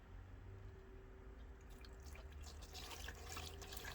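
Coolant is poured slowly through a funnel into a Suzuki SV650 motorcycle, a faint, soft trickle and gurgle of liquid that grows a little more splashy partway through, heard alone and quiet.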